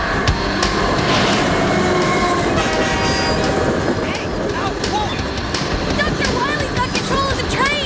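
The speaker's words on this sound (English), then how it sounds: "This train will take us back to the lab safely." A train rumbles past up close, wheels clattering over the rails with squealing screeches as it rolls along, loud and continuous.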